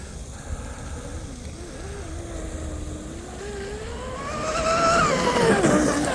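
A Proboat Blackjack 42 RC boat with a Castle Creations XLX2 system runs on water into the wind, its high electric whine wavering in pitch, then rising and growing louder as it speeds up, over wind noise.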